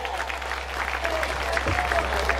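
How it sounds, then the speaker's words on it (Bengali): Crowd applause for the keyboard, octapad and percussion musicians at a school reunion stage event, steady clapping throughout over a low electrical hum, moderately loud. "তাদের সবার জন্য একটা জোরে করতালি হয়ে যায়"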